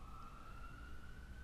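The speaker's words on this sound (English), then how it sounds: "I'm sorry there are sirens in the background." A faint, distant siren near a hospital holds a steady wailing tone under a low background rumble.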